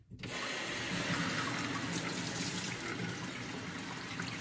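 Steady running water from a tap splashing over hands as gunk is washed off after removing bolts from the interior of a 1971 MG Midget, a continuous close rush with no talk.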